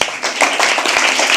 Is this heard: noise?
no